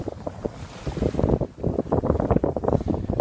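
Sailboat under sail in the Georgia Strait with mainsail and genoa set, giving steady wind rush across the microphone and water washing along the hull, loud and close throughout with no talking.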